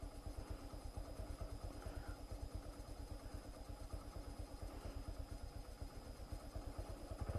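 A motorcycle engine runs steadily with a low, rhythmic chugging pulse, moderately close and even in level, no voices over it.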